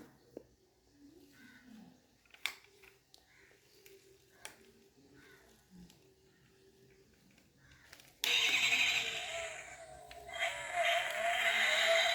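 A 1:32 diecast Ferrari model plays its engine-start sound: a sudden loud synthetic roar that cuts in after a quiet stretch of faint ambient clicks and chirps, then holds steady to the end.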